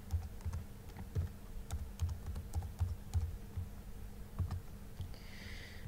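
Light typing on a computer keyboard, with soft scattered key taps in an uneven rhythm and a few sharper clicks, steady and fairly faint over quiet room tone, with no voices.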